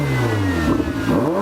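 A Ferrari 488 GTB engine revs hard through a titanium exhaust, its sharp tone sweeping up and down in pitch in a loud, close burst with no talk.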